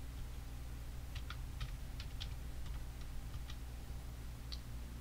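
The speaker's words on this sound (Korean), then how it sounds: "위글이라고 타이핑 하실게요." Faint, quick keystrokes on a computer keyboard click in a short irregular burst over a low steady hum, then a single last tap.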